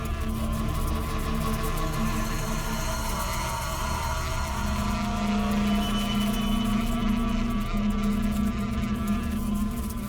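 A disturbed bee swarm buzzes loudly around a hive in a forest, a thick constant drone with a lower humming layer underneath and no voices.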